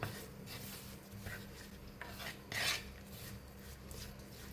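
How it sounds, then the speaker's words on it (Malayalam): A spoon stirs a curry of jackfruit seeds, dry prawns and raw mango with turmeric and curry leaves in a pot, giving soft, faint scraping strokes over a low background hum, with no talking. "എന്നിട്ടിത് നന്നായിട്ടൊന്ന് ഇളക്കാം"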